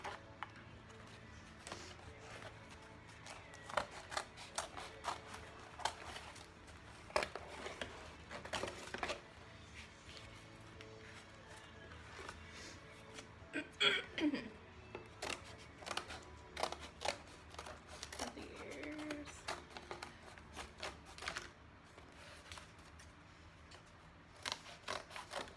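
Scissors snip and crunch through cardboard to cut out costume ears, producing close, quiet, irregular bursts of cutting and rubbing with short pauses between strokes.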